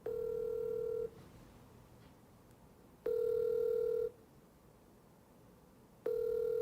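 Outgoing call to a pastor's phone with an unanswered ringback tone: three evenly spaced one-second tones about two seconds apart, steady and clear, with faint background hiss between them and no talk.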